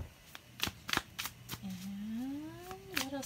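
A few quick papery riffles and soft taps of tarot cards being shuffled, close by, followed by a person speaking with a rising, drawn-out tone.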